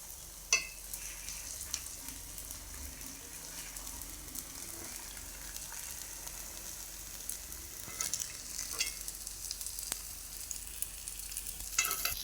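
Paniyaram batter fries in plenty of oil in a nonstick paniyaram pan, making a steady, soft sizzle with faint crackles and a few sharper pops, heard alone without talk.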